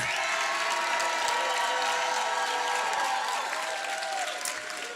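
Sustained audience applause from a crowd at a live comedic sermon event, dense steady clapping filling the room without a break, continuing at full strength before easing slightly near the end.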